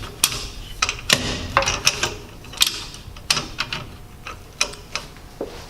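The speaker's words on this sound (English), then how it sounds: "you simply loosen these one tool adjustment bolts right here, 13mm or 1/2 inch wrench" A 13mm wrench loosens the screen clamp adjustment bolts on an NTL screen printing press, producing clustered metallic ratcheting clicks in short irregular bursts. Close up, with no talking.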